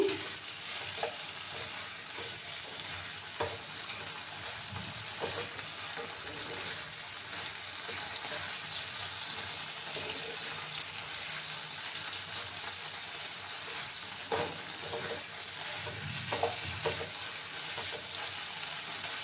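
Flat beans with poppy seed stirred and frying in a pan, a steady soft sizzle running throughout with occasional scrapes and clinks of the spoon against the pan.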